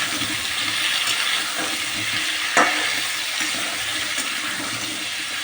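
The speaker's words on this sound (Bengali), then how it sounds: "আলুগুলো একটু ভাজা ভাজা হোক" Potatoes frying with tomatoes in a pan, a continuous hissing sizzle with a few soft stirring scrapes and one sharp clack near the middle, close and steady, no speech.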